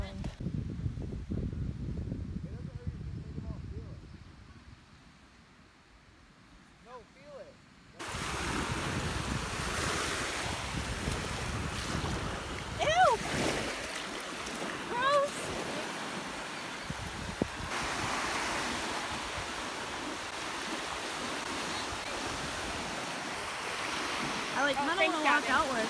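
Ocean surf and wind at Bowman's Beach on Sanibel Island, a constant roaring wash with heavy wind buffeting on the microphone, quieter at first and then louder and steady, with a voice speaking over it.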